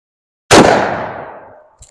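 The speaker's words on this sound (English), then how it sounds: "I got a 1898 Spanish Mauser chambered in 7mm Mauser, bolt-action rifle, and let's see how loud it is." One very loud, sharp gunshot from an 1898 Spanish Mauser bolt-action rifle chambered in 7mm Mauser cracks after a moment of silence and rings out in a decaying echo, followed by a faint click.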